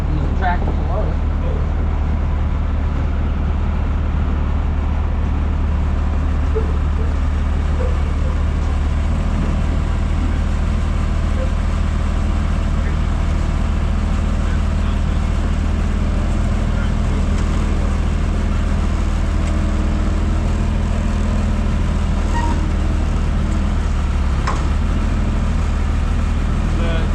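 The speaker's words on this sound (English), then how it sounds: "Use the tractor to load it." A farm tractor engine drones steadily at close range while loading near a Claas 695 forage harvester, a continuous low rumble with no pauses, carrying on throughout.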